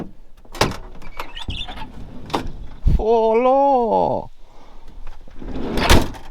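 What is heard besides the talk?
van door being locked, unlocked and shut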